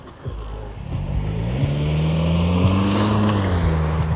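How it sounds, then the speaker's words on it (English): Road traffic passes on a quiet road, a car engine droning in low and climbing in pitch as it nears and goes by, fairly close and steady, with no talk. "Traffic is heavier than normal,"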